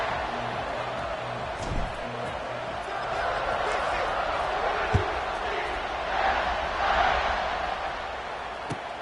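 Stadium crowd in the College Football 26 video game at kickoff, a steady broad roar of many voices with a few sharp thuds and swells of cheering, loud and continuous throughout.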